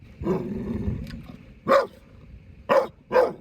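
Stray dogs bark in a short series of four loud, close woofs, the first a longer rough bark and the rest sharp, evenly spaced yaps with quiet pauses between them.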